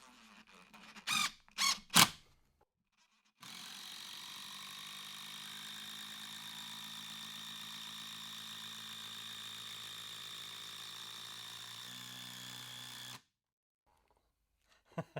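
A DeWalt impact driver sinks a screw into knotty wood: a few sharp clacks, then a steady whirring hum with hammering rattle lasting about ten seconds, ending cleanly, close by and without talk.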